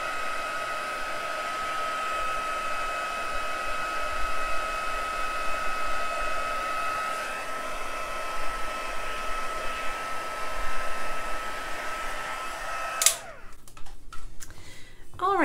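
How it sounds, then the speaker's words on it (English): A heat tool drying freshly colored cardstock blows a steady, loud whooshing hum with a high whine that runs for about thirteen seconds, then clicks off, leaving a quiet room. "I'm just gonna dry it for the video"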